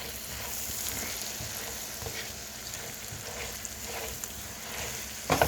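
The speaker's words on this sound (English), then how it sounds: "You're just sauteing them in the butter." Vegetables sautéing in butter in a pan for a crab leg, shrimp and sausage bake, giving a steady low sizzle with soft stirring scrapes throughout and a sharper clatter at the very end.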